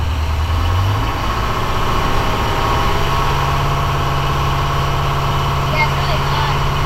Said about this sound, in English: So that's why you rev it up, to build the air faster